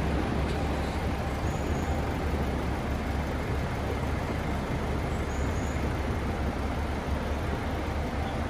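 Road traffic near a train station and parking area in Fukuoka, Japan, makes a steady, dense roar of vehicles with a low engine rumble that does not let up.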